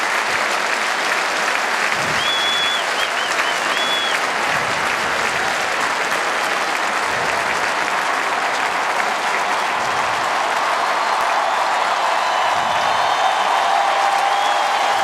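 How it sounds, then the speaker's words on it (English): Penn State Nittany Lion football fans applauding in a stadium after a narrow loss to Nebraska, a dense steady wash of clapping from a large crowd throughout, with faint whistles and no clear voices. "And the Nittany Lion fans applauding the efforts of their football team"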